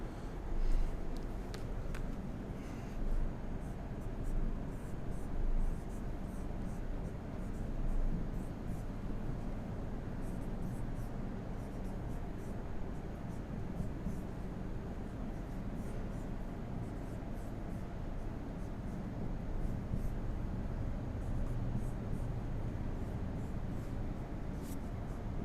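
A pen scratches across paper in a continuous run of close strokes and short taps, steady throughout against a constant background hiss.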